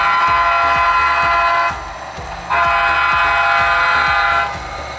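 Model train horn on a switching layout sounds in two long sustained blasts, loud and close, over a steady rhythmic clatter of running gear, with no voices.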